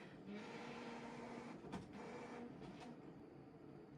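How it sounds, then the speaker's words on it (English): A printer labors with a rough, struggling whir and grinding hum, steady but faint, broken by a couple of sharp clicks, with no voices over it. "why is the printer like, it sounds like it's dying"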